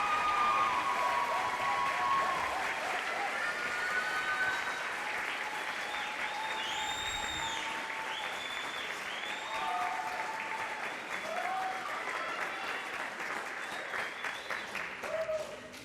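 Audience applause at a white coat ceremony, a sustained dense clapping from a large crowd that carries steadily through the whole stretch with a few scattered cheers on top.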